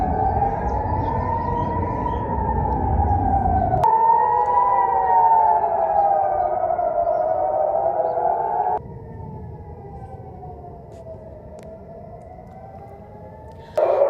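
Air raid warning sirens in Israel wail loudly, their rising and falling tones overlapping, with one siren cutting out and a quieter wail carrying on alone.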